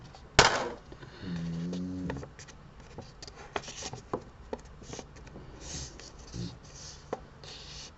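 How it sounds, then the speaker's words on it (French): A pen drawing a line and a tool scoring a fold on paper for a handmade Christmas mini album, with soft scratchy strokes, a brief rubbing sweep, and scattered close taps and rustles on a table. "donc là vous faites un deuxième trait et vous venez marquer le pli de votre deuxième trait"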